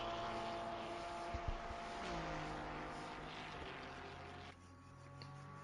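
Race car engine in a racing video game at Bathurst, a steady loud drone with shifting engine tones and a pitch drop partway through, running continuously.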